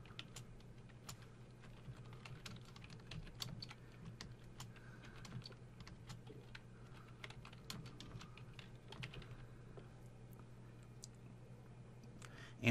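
Quiet, steady typing on a computer keyboard, a rapid patter of soft key clicks over a low background hum, with no voices.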